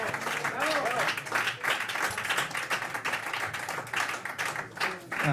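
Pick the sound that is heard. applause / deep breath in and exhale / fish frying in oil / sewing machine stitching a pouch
applause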